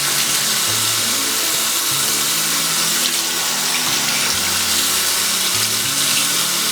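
A makeup brush rinsed under a steadily running tap, continuous splashing water hiss filling a sink, close and loud with no voices.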